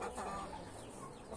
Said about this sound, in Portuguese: Duas galinhas no mesmo ninho.